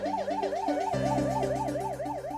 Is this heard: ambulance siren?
yes